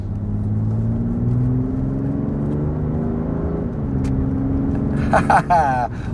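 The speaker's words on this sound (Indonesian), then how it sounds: "baru mulai berjalan langsung terasa bedanya, yaitu deruman 6 silindernya" A 2025 BMW X3's six-cylinder engine hums and rises in pitch as it accelerates from inside the cabin, a steady smooth drone with a brief clicking noise near the end.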